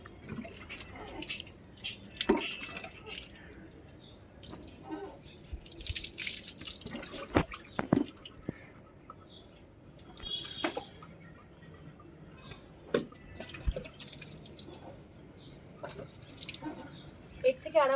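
Water splashes and drips intermittently while a long-haired pet dog is bathed in hot weather, with scattered wet slaps and trickles under occasional quiet talk.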